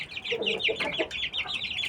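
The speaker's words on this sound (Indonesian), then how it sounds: "ini adalah anak ayam yang berumur 3 minggu." Three-week-old Bangkok breed chicks peep and chirp in a steady, overlapping chorus of high, close calls, with a few softer clucks underneath and no talk.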